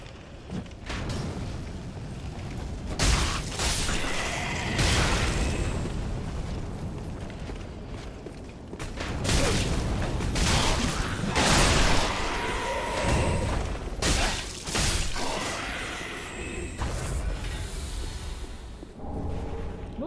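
Fire bombs burst repeatedly in Dark Souls 3, heavy booms and fiery crashes landing irregularly amid ongoing game clatter, loud and close.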